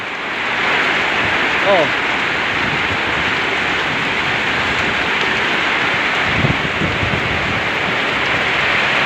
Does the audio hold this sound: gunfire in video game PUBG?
no